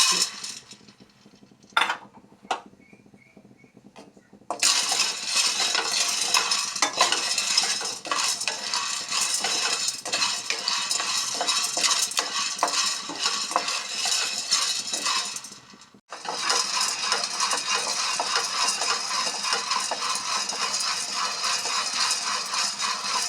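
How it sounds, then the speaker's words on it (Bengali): Peas fry in a pan with continuous close scraping, rattling and clinking of the utensil against the pan, starting after a quiet few seconds and pausing briefly near the end; no talking. "মটরগুলি ভাজা হয়ে গেল"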